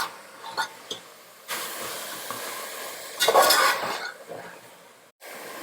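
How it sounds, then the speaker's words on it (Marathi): Yogurt and spice masala for veg dum biryani being sautéed in a pot over a medium flame, with a steady low sizzle, a few clinks of the stirring spoon, and a louder burst of hissing partway through. "याला आपल्याला तोपर्यंत परतायचंय जोपर्यंत याला चांगलं तेल सुटत नाही, यामधले मसाले दही व्यवस्थित परतलं जात नाही"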